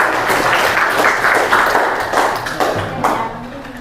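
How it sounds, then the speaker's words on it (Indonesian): Children in a classroom break into brisk, close applause, many small hands clapping in a dense patter that tapers off near the end, with no speech. "Bagus, tepuk tangan buat Salsabila."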